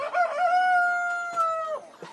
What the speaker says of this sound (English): Oh, there is a rooster.